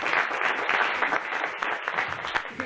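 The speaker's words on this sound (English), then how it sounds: "give yourself a round of applause" An indoor audience claps together in a dense burst of applause that stays steady and lively from start to finish.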